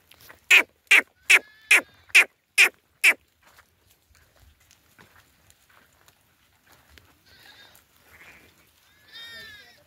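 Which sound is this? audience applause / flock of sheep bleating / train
flock of sheep bleating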